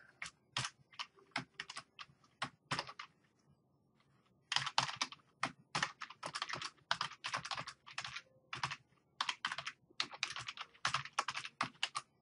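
Steady keystrokes on a computer keyboard while entering text into a program, a brief pause near the start, then faster bursts of clicking that continue to the end, close and clear with no talk.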